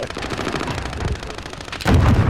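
Video game gunfire crackles in loud rapid bursts, a dense close rattle of automatic shots that swells heavier and deeper in the last half second.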